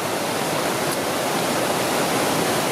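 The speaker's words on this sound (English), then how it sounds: "we've got the main waterfalls up at the top there." A loud, steady rush of falling water from Lumb Hole Falls fills the whole clip, a dense hiss with no pauses or voices.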